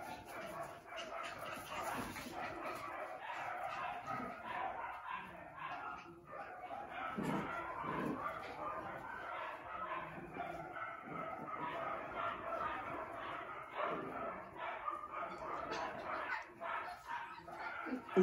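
Dogs and six-week-old puppies bark and yip in a busy, continuous chorus, with whimpers mixed in, fairly close and steady throughout.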